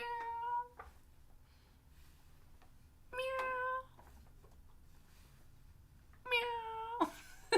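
A man imitates a cat's meow with his voice during a live stream, three drawn-out, whiny meows spaced a few seconds apart over quiet room noise.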